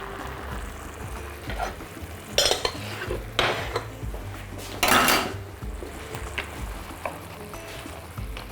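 Chicken breast pieces fry in butter in a pan, the sizzle mostly covered by loud clattering of a metal spatula and utensils against the pan, with several sharp bangs.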